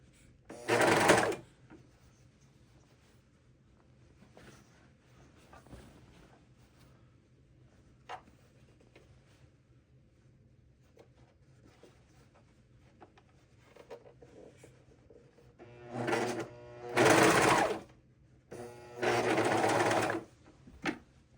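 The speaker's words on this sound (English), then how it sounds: "You can hold it as you're serging." Serger stitching a shirt sleeve in bursts: one short run near the start, faint handling noises, then three loud, close runs of steady whirring toward the end, with quiet pauses between them.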